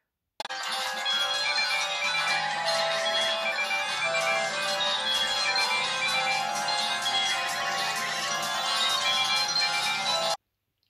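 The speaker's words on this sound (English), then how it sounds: "today we're going to be having a look at the ringtones on the HTC Advantage" Ringtone on a 2007 HTC Advantage X7500 phone, a bright, dense electronic melody played steadily for about ten seconds, then cut off cleanly.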